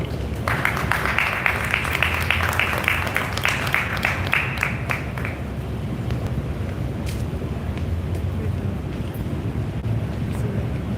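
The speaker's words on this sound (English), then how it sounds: "Can we have a huge round of applause," An audience at a technical session gives a round of applause: dense, rapid clapping for about five seconds, then fading to a few scattered claps over steady wind-like room noise and a faint voice.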